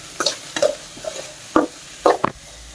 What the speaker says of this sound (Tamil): எவ்வளோ நேரம் இப்படி வதக்கிட்டே இருக்கணும்?